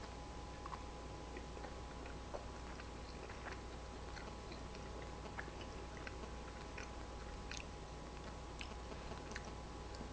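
Soft, close chewing of a forkful of Smart Ones Chicken Oriental frozen meal with chicken, peppers, rice and carrot, faint wet crunches and ticks over a steady low hum, no talking.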